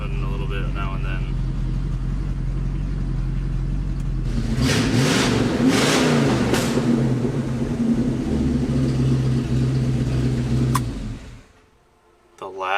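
An Oldsmobile Cutlass engine with a Quadrajet carburetor and a rough-running cam idles with a deep, uneven burble, then revs loudly and holds high before the engine dies away into near silence.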